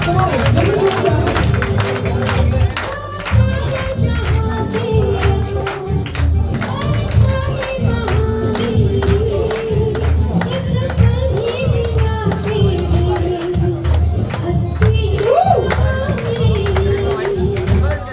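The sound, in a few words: audience clapping at a music launch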